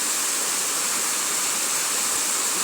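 A flowing river rushes steadily with an even, broadband hiss of moving water. It sounds close and continuous, with no voices.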